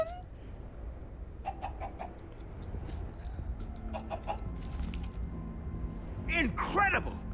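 Chicken clucking in the Minecraft Story Mode video game, brief repeated high clucks in scattered bursts with a louder squawking flurry near the end, set against a steady game background hum.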